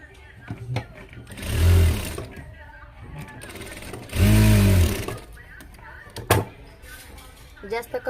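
A sewing machine stitches tucks into a blouse in two loud whirring runs of about a second each. Someone talks between them, and small clicks and handling noises sound nearby.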